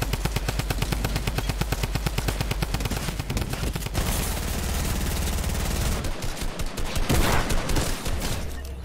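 Rapid automatic gunfire from a Fortnite match rattles in a steady fast stream for about four seconds, then gives way to mixed shots, impacts and game effects at a loud, close level, with no speech.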